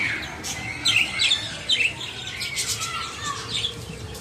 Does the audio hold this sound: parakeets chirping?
yes